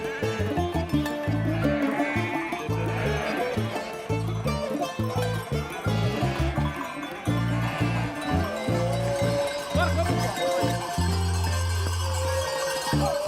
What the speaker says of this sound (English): The sheep and goats do not always happily walk the way intended for them